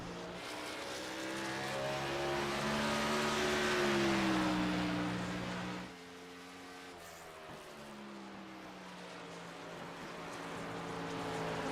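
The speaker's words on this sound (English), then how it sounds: "A lot of cars out on the racetrack this week." Several race cars in a Southern Excitement Racing League event at New Hampshire roar around the track, engine tones rising and falling as they pass, loud and continuous with a drop in intensity midway, no talk over it.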